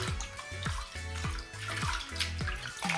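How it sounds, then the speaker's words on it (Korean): Warm water runs steadily over a dog during a bath in a tub, with a constant close splash and patter and gurgling drips and low thumps mixed in. "피부에 물 좀 적셔주고 따뜻한 물로 하고 있습니다"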